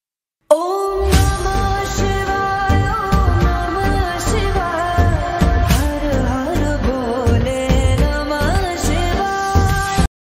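A Hindu Rudrabhishek puja is performed at home, carried by continuous devotional music with a sustained sung or chanted melody over steady rhythmic accompaniment, fairly loud and unbroken.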